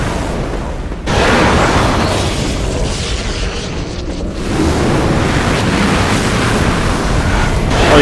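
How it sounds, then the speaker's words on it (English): A giant energy blast in the video game Cursed Mountain, a loud, rushing roar of noise that dips briefly and then surges back, sustained like a heavy wind-driven explosion, with no speech. "shooting giant energy blast"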